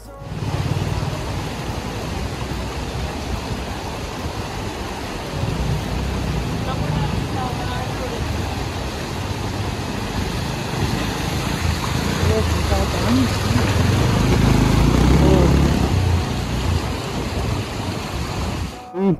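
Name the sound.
river water flowing during off-road ride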